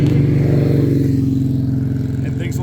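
A Kawasaki GPZ900R motorcycle pulls hard in third gear, its engine a loud, steady, close drone with a tight pulsing rhythm that holds across the whole span.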